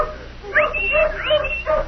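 Hounds bark, yip and whimper together in a radio drama chase down a ravine, a steady close cluster of high excited cries over a background hum, with no talk.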